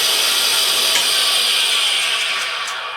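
A drill bit point is ground on a Spindexer tool, a loud continuous high-pitched grinding hiss that holds steady throughout and eases slightly at the end.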